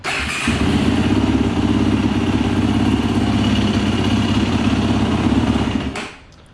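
A small engine, cold and hard to start, catches on full choke and runs at a steady, loud, close chattering idle for several seconds before cutting off abruptly near the end.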